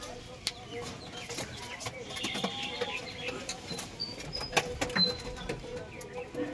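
Punjabi Malwahi pigeons coo and flutter close by in a loft, with soft bird calls and wing rustles under intermittent talk.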